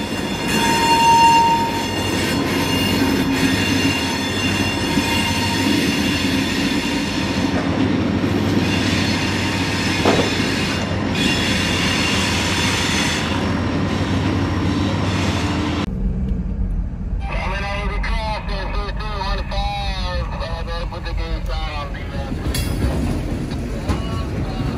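A Florida East Coast Railway freight train rolls past close by on a downtown spur, a steady loud rumble and clatter of wagons. Midway it gives way to a quieter stretch of squeals and rattling.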